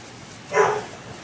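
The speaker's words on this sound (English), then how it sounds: "Bentley's barking." A single short bark from a pet dog named Bentley sounds once at moderate distance over a quiet room background.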